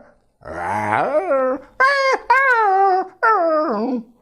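A voice imitates dogs growling, whimpering and howling in a series of close, loud, rising and falling vocal bursts separated by short pauses, performed by a mimicry artist.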